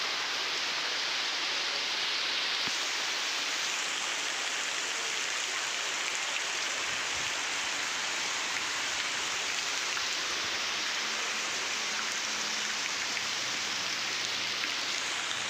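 Heavy rain pours in a dense, steady, loud hiss that fills the whole stretch without pause, and no voices are heard.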